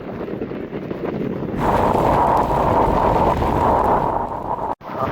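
Strong storm wind blows across moored boats by the sea, a loud, constant roar buffeting the microphone and rising in strength partway through, with no voices.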